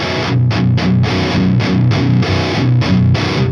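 Heavily distorted electric guitar through a high-gain tube amp chugs out a rhythmic riff of palm-muted chords, loud and saturated with thick low end.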